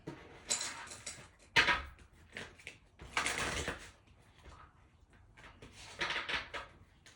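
Tarot cards are shuffled in a few quick, rustling bursts, soft and close, with quiet gaps between the riffles.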